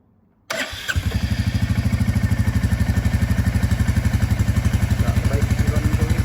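A Royal Enfield Classic 350 fitted with a PowerTRONIC FuelX module catches after a brief crank and settles into a loud, close, steady thumping single-cylinder idle with even rapid pulses.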